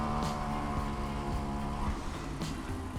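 A scooter engine with a CVT putters steadily at low RPM and light load, a continuous close, even drone with a faint rhythmic pulse and no talking.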